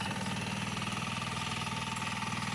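A single-piston air-cooled engine runs steadily, a loud, continuous close-up chugging with a fast, even pulse and no voices.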